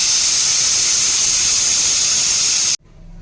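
A pressure cooker, used while cooking dal for a palya, vents steam in a loud, continuous close hiss that stops abruptly near the end, leaving quiet room noise.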